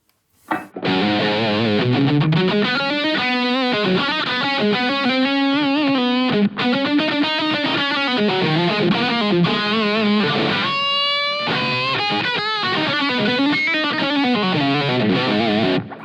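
An electric guitar, freshly swapped in, plays through a Yamaha THR amp with a crunchy overdriven tone, weaving continuous bent and sliding lead lines with a brief pause midway, loud and up close with nobody speaking.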